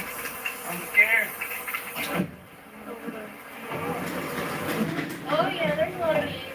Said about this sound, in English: Oh yeah, there's a lot of bees.